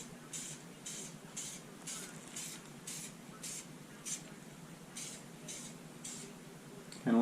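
Rhythmic bursts of an aerosol spray can laying a light coat of paint on a Foxbody Mustang center console cupholder, roughly a dozen short hissing pulses at steady intervals, fairly quiet, with a brief louder clatter at the very end.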